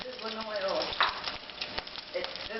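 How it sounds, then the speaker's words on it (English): Seafood croquettes crackle and sizzle in hot oil with a steady spattering hiss, while a voice talks over it. "Hot means sizzling oil."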